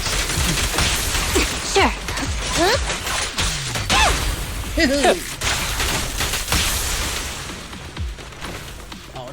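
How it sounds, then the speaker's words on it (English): Firecrackers go off in rapid, crackling volleys in a Chinatown street scene in Zenless Zone Zero, mixed with whooshes and game effects. The bursts are dense and loud, and character voices are heard over them. "And I've got a bunch of firecrackers."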